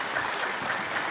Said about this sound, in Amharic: ቀዘቀዘ ይሄ ጭብጨባ?